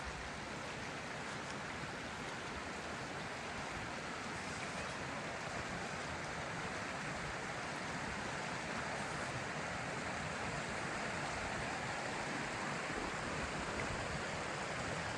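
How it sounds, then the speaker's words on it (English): Water flows out at Fountains Abbey in North Yorkshire, a steady rushing hiss that stays even and continuous throughout, with no voices. "to capture water coming out of this side here."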